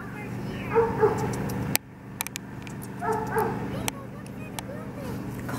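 Ladybug, a pet dog, gives soft yips and whining whimpers in two bursts, with a sharp click between them and light background noise throughout.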